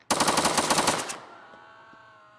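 Fully automatic gunfire from a laser pointer weapon in the YN Simulator video game: a loud, rapid burst of about a second, followed by a fading ringing tail.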